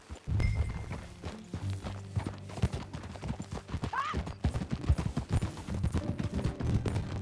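A horse walks in the Red Dead Redemption 2 video game, its hooves clip-clopping steadily in a loose rhythm, with a brief neigh, creaking tack and low background game ambience under the steps.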